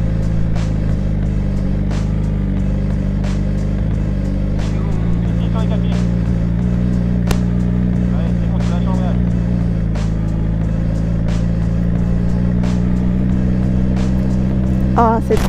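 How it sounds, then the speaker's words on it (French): Motorcycle engine heard through a rider's helmet on a ride, a steady low drone running throughout under wind noise, with people talking over it. "Tu sais que j'entends le bruit de la moto dans ton casque."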